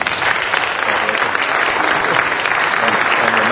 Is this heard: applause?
yes